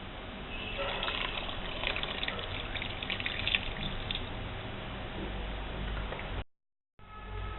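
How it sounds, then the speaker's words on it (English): Warm water is poured into a pressure cooker holding mutton curry, a steady, close gush that runs for several seconds before a brief silence, then resumes. "Now add warm water."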